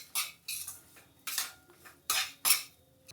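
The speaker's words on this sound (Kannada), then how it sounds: "ಇವಾಗ ಇದಕ್ಕೆ ತುಪ್ಪಕ್ಕೆ ಹಾಕಿಬಿಟ್ಟು ಚೆನ್ನಾಗಿ ಹುರಿತೀನಂತೆ" Semolina roasting in ghee in a pan, stirred with a metal spoon: close, crisp scraping and clinking strokes in an uneven rhythm of about six bursts, with quiet pauses between and no talk.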